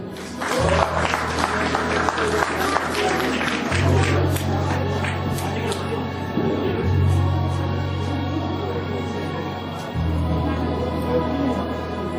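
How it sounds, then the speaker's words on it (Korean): An audience at a charity concert in Ansan applauds in sustained, dense clapping with crowd murmur and a steady low hum underneath, lasting throughout. "박수 한번 주세요"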